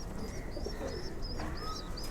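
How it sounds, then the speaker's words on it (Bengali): Pigeons coo in a loft in soft, repeated low calls with a few higher chirps, close by against a steady background hum. "কবুতরগুলো দেখুন।"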